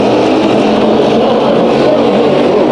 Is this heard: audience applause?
no